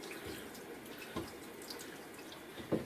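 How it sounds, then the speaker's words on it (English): Tap water runs steadily into a sink while the threaded rim of a shaving soap tub is rinsed, a soft continuous wash with a few small splashes and knocks, heard alone without talk. "I will now do a final rinse of the threads of this tub."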